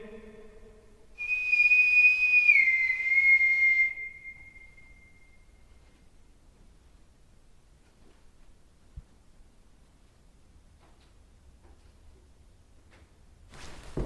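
A person whistles a single sustained note that dips slightly in pitch for about three seconds, clear and close, followed by near silence.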